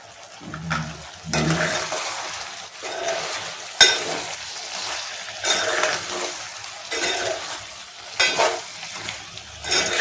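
Country chicken frying in a pan with chili powder, salt and turmeric being stirred in: loud repeated scraping strokes over a steady sizzle, in bursts about every second or two, close up with no talk.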